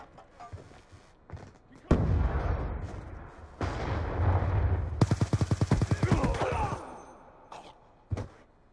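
A grenade burst in a video game firefight lands as a sharp heavy blast, then a rapid rattle of gunfire with more shots and thuds, loud and close, with faint voices in the mix.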